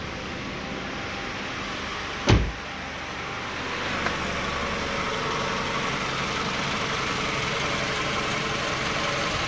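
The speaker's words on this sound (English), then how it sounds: "You start seeing the engine start shaking." A 2002–2006 Toyota Camry engine idling and shaking with the air conditioning switched on. One sharp thump comes first, then a steady, close, loud rumble with a faint vibration and no voices.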